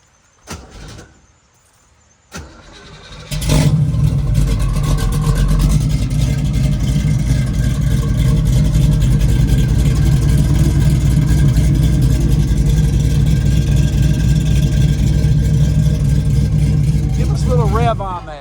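A 1968 Chevrolet Camaro Rally Sport is cold-started after a few quiet seconds with brief cranking, then the engine catches and settles into a loud, steady, rumbling idle that runs close by to the end.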